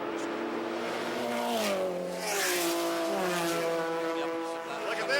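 Race cars, including a BMW M3, howl past at the IMSA Mosport 500 in 1996, a sustained, loud engine note sweeping up and down in pitch as cars accelerate, with a commentator talking over it.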